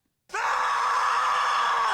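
A voice imitates the shriek of a rider on a roller coaster that twists like a barrel roll. The sustained, strained scream starts suddenly and holds steady at full strength for nearly two seconds.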